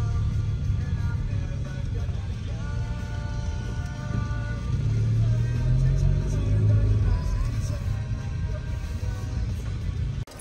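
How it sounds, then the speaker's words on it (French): A car rolls slowly through a big parking lot full of parked vehicles, its engine giving a steady, close, low rumble that swells slightly midway, with faint voices underneath. "On est dans un gros stationnement. C'est cool, hein? Il y a beaucoup de voitures"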